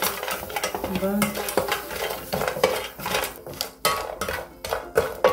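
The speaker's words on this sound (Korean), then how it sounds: "새 멸치를 한번 볶아주세요" Dried anchovies are stir-fried in a heated pot over low heat, with a soft sizzle under repeated scraping and clinking of a utensil against the metal. The sound is close and continuous.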